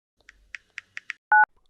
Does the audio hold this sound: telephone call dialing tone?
yes